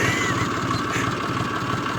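A tractor engine running close by with a steady, rough, throbbing mid-pitched drone that holds level throughout, without clear revving swells.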